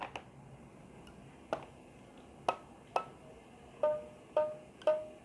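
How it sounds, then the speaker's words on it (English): A rubber band stretched over a box is plucked about seven times at uneven intervals, each pluck a faint, short twang that rings briefly over quiet room noise. "Now pluck the rubber band in the middle, you can hear a different sound, right?"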